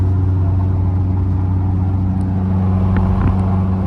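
A drift car with about 20 degrees of toe out drives home on the road, its engine a steady, loud low drone that continues throughout with little change, with no talk.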